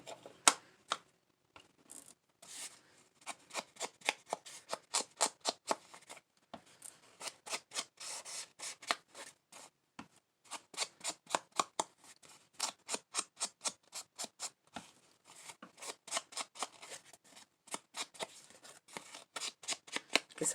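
Scissors snip paper page extensions for a Dollar Tree journal in long runs of quick, crisp cuts, close and fairly quiet, with short pauses between passes.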